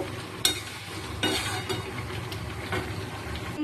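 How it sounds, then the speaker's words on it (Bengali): Jackfruit curry being stir-fried in a pan, with a spatula scraping and clinking against the metal over a steady sizzle, a few sharper stirring strokes standing out, close and clear. "চলো বেশ সুন্দর করে কষিয়ে নিতে হবে 2 থেকে 3 মিনিট।"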